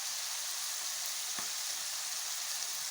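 Peas frying in a pan with cumin powder give a steady, fairly loud broadband sizzle that runs unbroken throughout, with one brief stir or clink near the middle.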